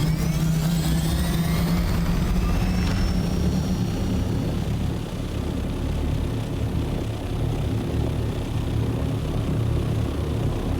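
Aircraft engine droning steadily during a flight in the Dune: Awakening video game, a continuous loud hum with a rising whine early on, no talk.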